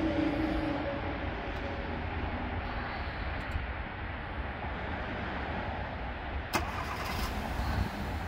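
A 2018 Hyundai Tucson's engine turns over and settles into a steady idle after a remote start, heard up close in a continuous low rumble with a brief sharper burst near the end and no talking.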